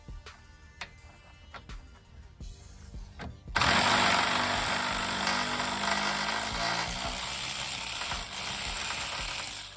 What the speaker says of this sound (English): Then I'll get my breaker bar and eventually a ratchet on the 18mm bolt that's coming up through the bottom.